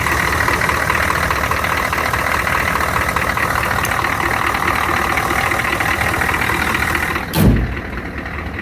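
A big block engine in a Suburban runs steadily with the drive belt jumping around the alternator, a loud continuous mechanical drone close by that dips slightly near the end.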